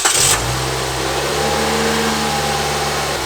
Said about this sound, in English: let's see if the Scimitar starts now